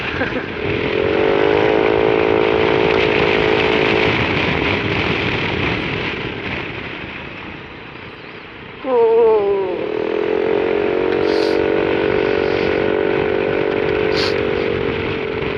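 A motorcycle engine drones steadily close by, dipping briefly and revving back up before settling into a continuous hum.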